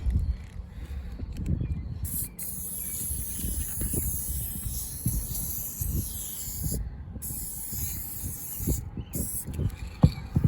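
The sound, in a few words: spraying primer from a spray can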